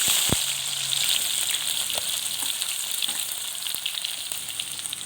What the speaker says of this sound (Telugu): సో ఇప్పుడు ఇది వేగుతూ ఉన్నప్పుడే